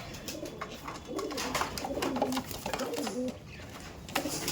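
Kaldom pigeons in a loft give repeated soft, rolling coos, moderately close, over a rustling background with no talk.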